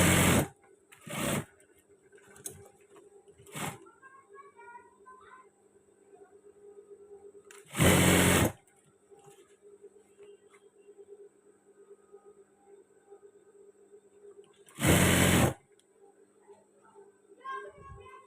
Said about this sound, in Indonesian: Ke sini kita jahit, serong kembali, kurang lebihnya sama.